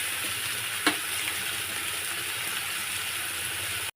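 Chopped ridge gourd being cooked with spices in a pan gives a steady, loud sizzle and hiss that runs unbroken, with one brief scrape or clink of stirring near the start.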